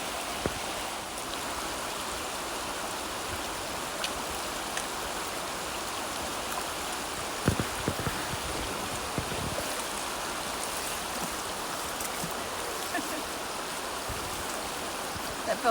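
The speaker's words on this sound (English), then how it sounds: "So we think this is our final river crossing of the night." River water rushing steadily during a nighttime backpacking crossing between Shoshone Lake and Bechler Canyon in Yellowstone, a continuous broadband wash with a few brief splashes and knocks close by, no talk.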